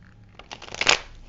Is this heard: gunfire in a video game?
no